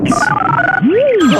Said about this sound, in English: One ring. That's a telephone.